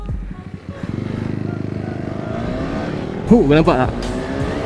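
A KTM Duke 390 motorcycle accelerates hard on board, its engine note climbing steadily in pitch as it revs through gears, close and loud, with someone speaking briefly over it.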